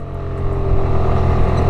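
A Suzuki Burgman Street 125 scooter with a 124 cc air-cooled engine pulls away from a standstill, its motor humming in a steady, close drone that swells slightly as it picks up speed.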